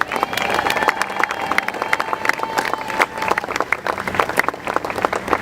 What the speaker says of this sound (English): please join me in giving yourselves a huge round of applause because you deserve it